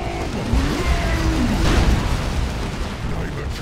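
A stick bomb goes off in Warhammer 40K Dawn of War II: Retribution, a muffled boom swelling midway through rumbling battlefield noise, with shouting voices mixed in.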